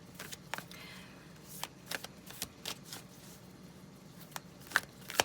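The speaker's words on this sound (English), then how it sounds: "Shuffle again, yes." Playing cards are shuffled during a tarot-style reading, giving soft riffling and flicking strokes at irregular intervals, a couple of sharper snaps near the end, all close and fairly quiet with no talking.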